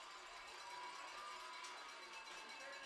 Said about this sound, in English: the crowd's really getting into it now